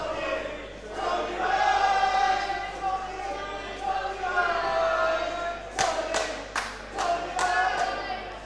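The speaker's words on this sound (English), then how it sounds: "There's some rhythmically challenged, yet enthusiastic people in the crowd tonight" A wrestling crowd at an Atomic1 event claps unevenly and out of time. A handful of sharp, separate claps stand out near the end, over a steady murmur of the crowd and a commentator talking.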